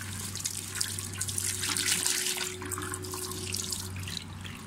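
Water is applied and rubbed while cleaning a stain off a whiteboard, a steady close hiss of running and splashing water with a faint mechanical hum underneath.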